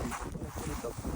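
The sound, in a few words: cold wind outdoors in snow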